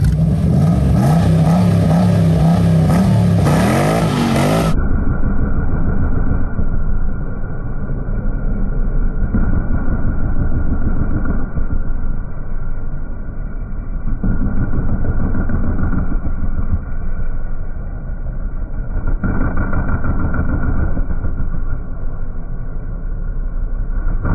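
Engine of a replica Lamborghini car held hard under load, a loud sustained droning roar with a harsh muffled tone after an opening burst, swelling slightly now and then without talk.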